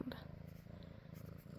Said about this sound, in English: You might hear him purring in the background.